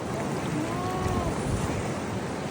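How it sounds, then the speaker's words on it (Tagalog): Ocean waves wash onto a Hawaiian beach in a steady, loud roar with wind buffeting the microphone, continuous throughout with no talk. "Ganda ng alon."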